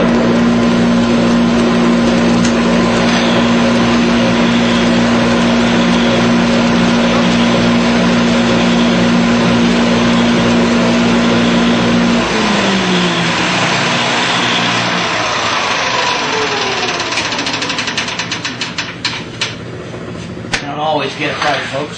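A Shopsmith thickness sander runs loud and steady while wood passes through, a drum whine holding level and then slowing and winding down toward the end, with someone talking over it.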